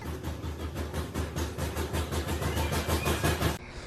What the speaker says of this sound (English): It's making a lot of noise in the engine, a lot of rattling.